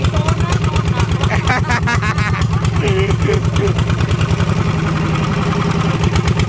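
A motorcycle engine with newly tuned camshafts runs loud and close, its rapid exhaust pulses steady then rising as the throttle is blipped, with voices faintly in the background.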